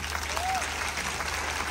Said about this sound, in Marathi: हात वरती करून जोरात टाळ्या वाजवा.